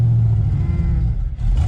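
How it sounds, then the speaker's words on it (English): Foxbody Mustang that sat for over eight years idling roughly with a miss, a loud, close, low, uneven engine rumble with no talking. "Sounds a little rough. It's not bad. Yeah, it ain't real bad, but it's got a miss"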